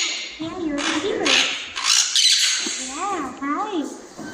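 Pet parrot at a parrot attraction in Pigeon Forge, Tennessee, giving several loud, close harsh squawks in quick bursts, with a person talking softly to it in between.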